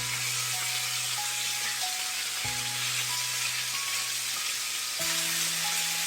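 Chicken pieces roast in spice masala in a pan over a high flame, giving a loud, steady sizzle and crackle throughout, with faint tones running beneath it.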